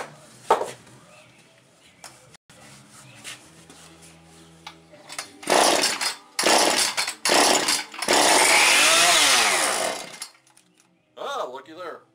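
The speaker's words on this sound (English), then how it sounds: "Pull the choke out, turns it on. I'm just going to leave it on high idle." A Husqvarna 455 chainsaw, restarted after more than two years in storage, runs close by in loud, rasping two-stroke bursts separated by quieter gaps. Faint handling noises come before it.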